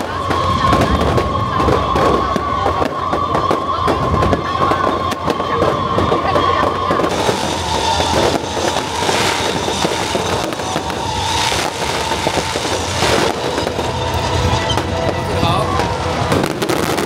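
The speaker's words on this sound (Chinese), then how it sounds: "晚上360秒的烟火秀，更是将活动带到最高潮" A 360-second fireworks show at a Keelung fishing port festival, with a dense, continuous barrage of booms and crackles over a loud cheering crowd, heard from within the audience.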